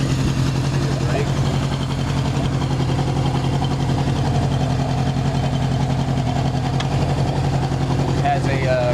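A 1978 Honda CB750 motorcycle engine with a Kerker exhaust runs steadily throughout, a continuous low rumbling drone with people talking over it.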